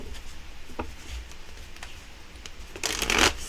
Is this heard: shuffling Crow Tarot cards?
yes